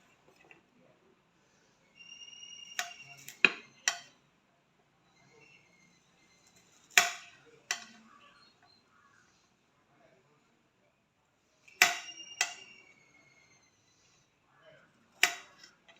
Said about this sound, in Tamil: அடுத்ததாக வந்து உள்ளியை கட் பண்ணுவோம்.